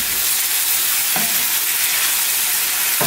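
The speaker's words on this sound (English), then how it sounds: "There it is, cooking away." Pastelle filling frying in a pot, a continuous loud sizzle with a brief stir or scrape near the middle, hissing steadily throughout.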